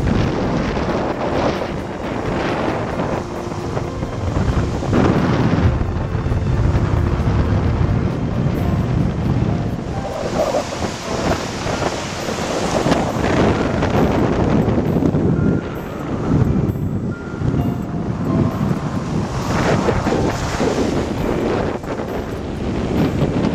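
Strong wind buffets the microphone on a beach in Panama City Beach, Florida, with a loud, continuous roar and gusty surges, while surf rumbles faintly underneath and no one speaks.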